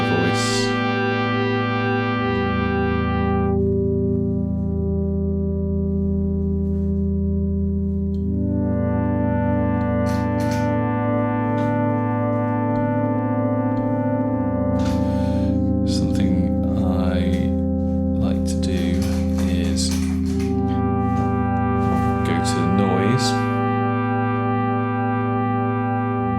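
Kodamo EssenceFM four-operator FM synthesizer playing sustained, harmonically rich chorused tones that shift pitch in held steps, with bursts of bright distorted texture in the middle section.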